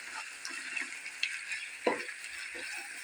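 Ground meat browning in a pan for a Turkish home-cooked dish: a steady, close sizzle with occasional stirring scrapes and a soft utensil knock, with no talking.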